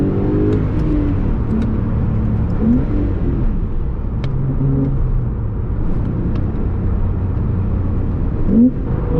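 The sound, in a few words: Porsche 911 Carrera T engine driving, loud cabin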